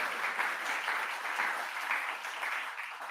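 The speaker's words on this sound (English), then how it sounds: "last round of applause" Audience at a data engineering conference in Melbourne giving a round of applause, steady dense clapping heard from a little distance, moderately quiet and continuous with no talk over it.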